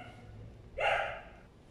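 Small dogs barking outdoors at a distance, one brief burst of yelping barks rising out of quiet room background.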